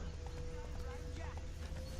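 Hooves clop rhythmically as a horse runs in the video game The Witcher 3: Wild Hunt, with a low steady drone behind it and someone talking over the top.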